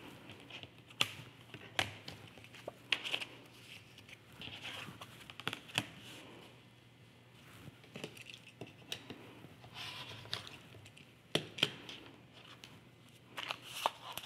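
Rotary cutter slicing quilting fabric strips into 3-inch squares against a ruler, quiet scattered crisp cuts and taps with handling rustle between them.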